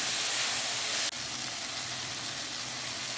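Finely chopped tomatoes sauté in a hot pan, giving a steady, close sizzling hiss that dips sharply for an instant, then continues slightly softer; no talking.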